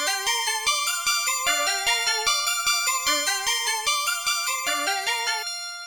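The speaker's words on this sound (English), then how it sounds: "So yeah, I've made a loop with Hive." Beat loop built from Hive synthesizer sounds: bright, stepping synth notes over steady percussive hits in a tight repeating rhythm, with a held tone ringing out at the end, and no voices.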